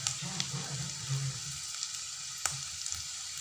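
Halved curry leaves sizzle and spit in hot oil in a home kitchen while upma is being prepared, a steady close frying hiss with a few sharp pops and crackles and no talking.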